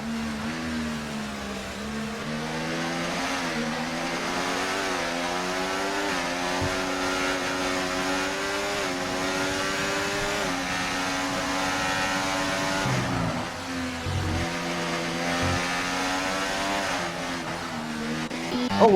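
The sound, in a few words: race car engines passing on track in a sim racing game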